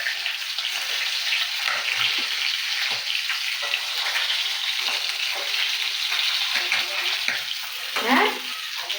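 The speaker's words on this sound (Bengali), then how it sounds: "মাছ ভাজা করছি মাথা।" Fish heads fry in a pan with a steady, bright sizzle and crackle that lasts throughout, close by and fairly loud, with occasional clinks near the end.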